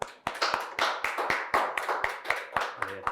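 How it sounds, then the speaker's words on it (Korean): A small group claps in a steady, slightly uneven rhythm of distinct hand claps, close and moderately loud, welcoming the chairman Hwangbo Guk at a Korean family-worship class webinar. "황보국 회장님을 큰 박수로 모시겠습니다."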